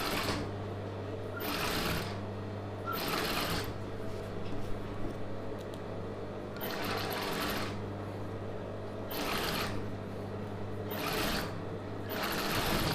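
A sewing machine stitches a pleat on a Patiala pant in a series of short, evenly spaced bursts, each run of stitching separated by brief pauses, close and moderately loud.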